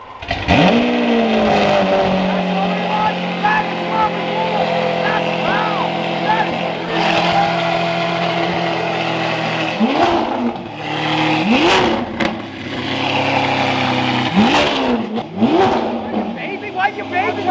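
A Lamborghini Aventador fitted with a $12,000 prototype exhaust, revved up loudly several times, each rev rising and falling back to a deep idle, with voices talking between the blips.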